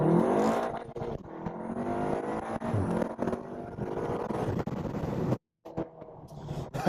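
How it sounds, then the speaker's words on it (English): A car's turbocharged engine accelerates with the windows down, a steady loud engine drone and exhaust note rising and falling over several seconds, broken by a brief sudden dropout near the end. "Turbo and such, exhaust noise."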